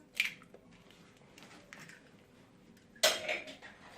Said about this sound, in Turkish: 190 derece fırına hemen bir tane yumurtayı kıracağım